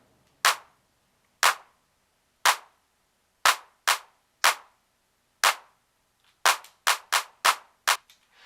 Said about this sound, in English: we've got this kick, like a nice snappy 909 kick, two claps which I've panned left and right